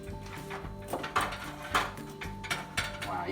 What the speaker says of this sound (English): this pie is cooled now, so we're gonna go ahead and try to cut it here